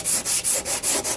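Hand sanding of Bondo body filler on the driver's quarter panel of a 2003 Cadillac CTS, six close, even abrasive back-and-forth strokes in quick rhythm.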